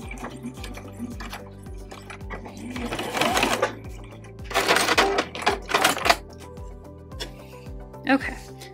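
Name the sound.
sewing machine stitching fabric corners of a tote bag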